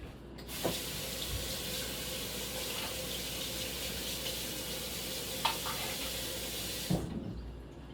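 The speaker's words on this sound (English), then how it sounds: "So I'm just gonna quick wash it." A kitchen sink tap runs in a steady close stream while a sushi knife is quickly washed, with a couple of soft knocks before the flow cuts off.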